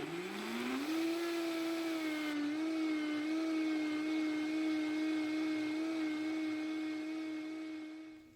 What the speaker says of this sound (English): So now I'm going to puree this well.